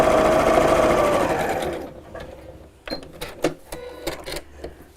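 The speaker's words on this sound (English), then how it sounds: "if you've got a 1/4 inch foot on your sewing machine, that would be a good time to use it now" A sewing machine runs steadily and loud for nearly two seconds, stitching a patchwork pin cushion seam with a quarter-inch presser foot, then stops, followed by a few scattered clicks and fabric handling sounds.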